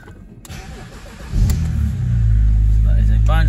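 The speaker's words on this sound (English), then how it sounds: "So that is a bone stock cold engine." A stock BMW Z4 Coupe 3.0 with a manual gearbox cranks over from completely cold, catching with a loud burst at about 1.4 seconds and settling into a steady, heavy rumble that swells as it revs, close to the listener.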